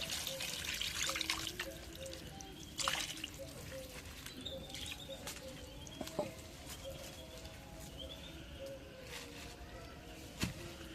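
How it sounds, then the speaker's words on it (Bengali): Water is poured into a cooking pot (a kadai) for a borali fish dish, giving a soft, steady trickle and splash with scattered drips, close by and fairly quiet, with faint birds in the background. "এখন একটু পানি দিই।"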